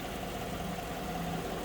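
A 5.3 liter V8 in a 2014 Chevrolet Silverado LTZ Double Cab 4x4 idles steadily, a smooth low rumble heard alone.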